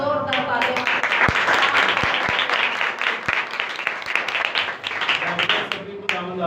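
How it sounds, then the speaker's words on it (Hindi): A church congregation at a Pakistani ministry service breaks into hearty applause, dense clapping from many people swelling then thinning into scattered claps, with a few sharp thumps and faint voices mixed in. "आपकी जोरदार तालियां।"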